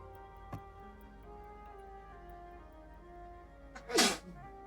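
A single loud, sharp sneeze bursts out near the end against a quiet room with faint ticking, alone and close.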